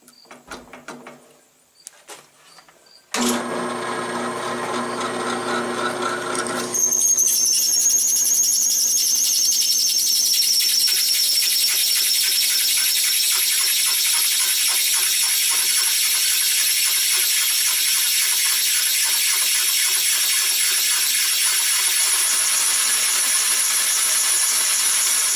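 Sharpened 135-degree pilot-point bit drilling into a steel mower blade: a short burst of tool noise, then a sustained, loud, steady high-pitched whine and grind that runs continuously for about twenty seconds.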